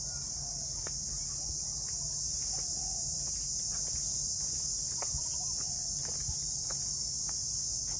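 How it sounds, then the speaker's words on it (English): Steady high-pitched insect drone at sunrise in Vietnam, with scattered soft bird calls, likely doves, and faint ticks and clicks beneath, continuous and moderately distant, no talking. "They have doves everywhere"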